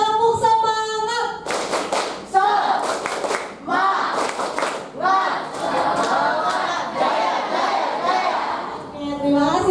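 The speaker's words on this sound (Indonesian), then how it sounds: "Oke, tepuk semangat." A group at a student leadership training session performs the Indonesian rhythmic spirit clap, tepuk semangat, with loud patterned clapping in bursts alongside chanting and shouted voices, plus a sung or called line at the start.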